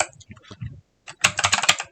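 Typing a name on a computer keyboard: a few scattered key taps, a brief pause, then a rapid, close run of clicking keystrokes, with faint talk before.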